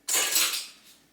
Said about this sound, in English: we're just going to stir this in nicely